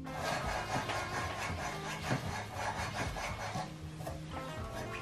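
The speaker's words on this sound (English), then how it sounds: "Now I'm gonna slide the hardtail in." Steel weld-on hardtail frame being slid onto a Harley Sportster with the motor bolted down, giving a steady scraping, rubbing sound of metal sliding against metal, close and fairly quiet, with no talk.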